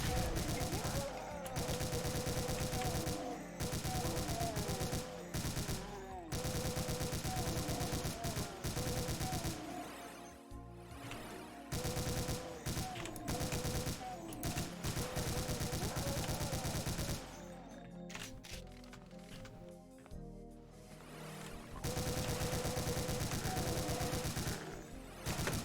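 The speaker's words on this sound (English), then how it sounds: "This is a chain gunner. Chain gun, I mean." Rapid chaingun fire in a Doom WAD, dense continuous bursts of gunshots with brief pauses between volleys, loud and sustained, mixed with other game effects and occasional speech.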